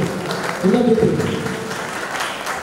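Audience clapping at a talent hunt award show at Taraji Resort, Ayodhya, a steady patter of applause from a crowd with a voice speaking over it.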